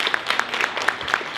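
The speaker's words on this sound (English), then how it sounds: "Please give her a round of applause." A crowd at the SF Green Jobs Pavilion claps for a speaker coming on stage, a moderately loud, dense patter of many hands with a few sharper individual claps poking out.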